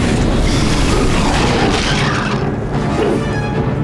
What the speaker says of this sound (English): Alright, magic missile.